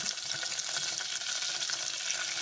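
Mustard seeds, cumin and two dried red chillies crackle in hot oil for a ridge gourd dal, a dense, continuous close sizzle with fine popping that cuts off abruptly, no talk heard.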